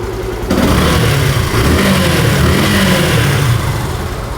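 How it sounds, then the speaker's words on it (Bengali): A Yamaha FZS V2 motorcycle engine runs steadily close by, a loud continuous low rumble that swells slightly as it revs, with no talking. "বাইকটা কিন্তু স্টার্ট করা হয়েছে আর বাইকের সাউন্ডটা আপনারা শুনতে পাচ্ছেন আশা করি"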